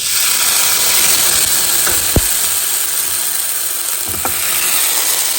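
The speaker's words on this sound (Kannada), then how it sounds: "ಚಲೋ ಚಟಪಟ ಅಂತಿದ್ದು ಈಗ ಇದನ್ನು ತಂಬಳಿಗೆ ಹಾಕುವ" A steady, loud sizzle as a spluttering tempering of dried red chilli and curry leaves is poured into mango tambuli, with a continuous hiss and a couple of faint clinks.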